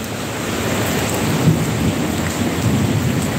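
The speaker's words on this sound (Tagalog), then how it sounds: "It's raining here." Heavy rain pours steadily in a thunderstorm, a dense close hiss of drops hitting surfaces, with low rumbles of thunder underneath and no talking.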